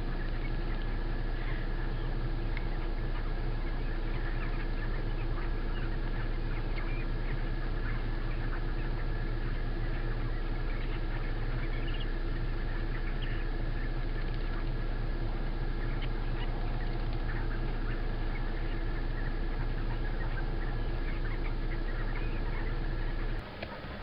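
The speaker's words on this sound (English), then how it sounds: "there's a whole gang of them eating down there and making little quacky sounds" A whole group of ducks feeding in Florida make soft, scattered little quacks over a steady low drone of a nearby engine, continuous for the full stretch with faint flapping and background outdoor noise.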